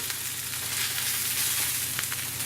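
A fatty 24 oz ribeye steak searing over medium heat in a pan, giving a loud, steady, crackling sizzle with occasional sharper pops of splattering grease.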